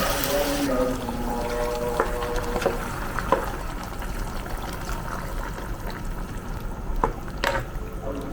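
Hot water poured into a pot of beef menudo in a home kitchen, a soft continuous pour followed by light utensil knocks and occasional clinks.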